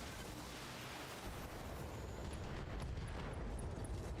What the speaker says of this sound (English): Oh, a demo explosion.